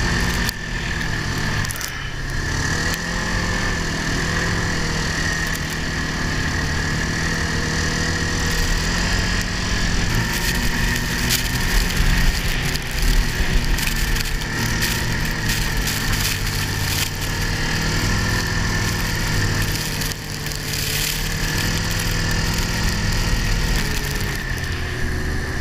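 A Ski-Doo snowmobile rides through deep fresh powder between high snow banks, its engine a steady, close droning hum that rises and falls slightly throughout, with no talking.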